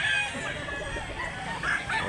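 Roosters crow and cluck over a dense crowd din at a rooster market in Mantalungon, Barili, Cebu, with calls overlapping continuously through the noisy background.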